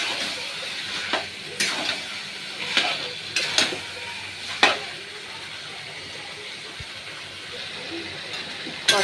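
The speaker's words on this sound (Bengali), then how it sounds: "ভালো করে কষিয়ে দিচ্ছি।" Food being stirred and sautéed thoroughly in a pan for a Bengali-style dish, with intermittent scraping strokes of the spoon over a low, steady sizzle, fairly close and alone.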